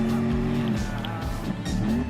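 Audi Quattro S1 Pikes Peak racing in Gran Turismo Sport, a loud sustained engine drone with shifting pitch and tire squeal, steady and close throughout.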